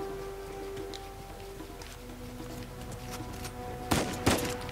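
Gunfire in the video game Uncharted 4: two loud, sharp shots crack in quick succession near the end, after a stretch of quiet, humming game ambience.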